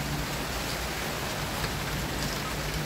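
Steady rain falls outdoors in a garden where seedlings are being replanted, an even hiss of dense drops on surfaces with no break or voice over it.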